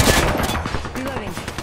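Rapid gunfire in a video game, a dense burst of sharp repeated shots, loud and close, with game sound effects mixed in.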